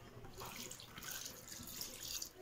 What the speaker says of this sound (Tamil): தண்ணி ஊற்றி வேக வச்சுக்கலாம்.